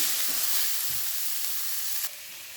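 Beetroot palya frying in a pan while being stirred, a close, continuous hissing sizzle with a couple of soft scraping knocks, dropping suddenly quieter near the end.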